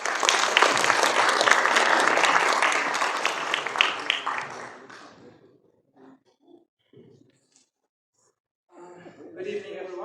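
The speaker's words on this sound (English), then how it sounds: "A big applause for him." Applause from a forum audience at a post-budget discussion event, loud and dense for about five seconds, then fading into scattered faint claps and a short burst near the end.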